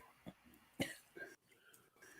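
A man clears his throat with a couple of short rough bursts, caught close up during an informal chat, followed by a little muffled talk.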